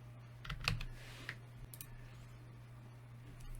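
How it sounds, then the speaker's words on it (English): Computer keyboard keys tapped to type a short search word, a few quiet clicks in a quick cluster followed by a couple of isolated taps over a faint steady hum. "I'm going to type in OneNote again"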